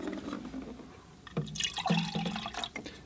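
A little water poured into a container for watercolour painting, a brief gurgling fill with a few drips, close and fairly quiet over faint background hiss.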